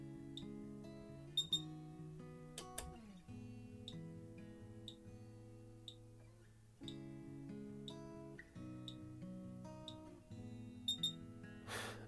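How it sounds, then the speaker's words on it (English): An f-stop enlarger timer in a darkroom gives short, sharp beeps at intervals during a test-strip exposure, set against steady tonal music. "I'm using an f-stop timer."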